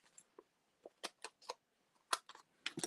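Scissors trimming paper for a Christmas tree card craft, heard as a series of short, crisp snips at an irregular pace, close by and quiet, with no talking.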